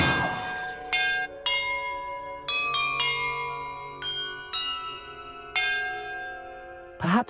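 Bells in the Hogwarts Legacy video game ring one after another in an irregular sequence of about a dozen bright, ringing strikes, each tone lingering and overlapping the next, loud and close with no talking.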